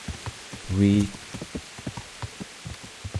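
Steady rain in the video game Kingdom Come: Deliverance patters with soft, irregular drops against a quiet background, and someone briefly speaks over it.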